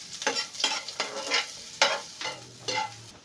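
Garlic and onion sauté for chicken chop suey, a soft sizzle broken by repeated scraping stirs in a quick, uneven rhythm, close and fairly quiet.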